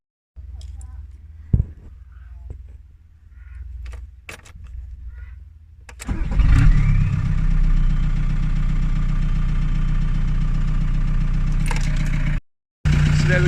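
A VW T4 van's engine is started with the key: faint clicks and rustling come first, then the engine catches with a loud rumble and settles into a steady idle, which cuts off abruptly near the end.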